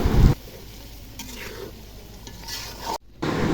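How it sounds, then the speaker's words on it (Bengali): Marinated chicken for homestyle biryani sizzling in hot oil, a steady close fry with stirring scrapes, a louder clatter at the start and a brief cut near the end, no talk. "এবার এটাকে কিছুক্ষণ এই তেলে কষিয়ে নেব, মাংসটা যতক্ষণ না সিদ্ধ হয়ে যায়।"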